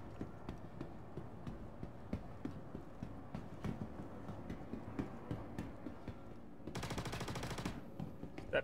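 Enemies fire guns inside a bunker in an FPS video game, in rapid repeated shots that run throughout and swell into a dense, sustained burst near the end.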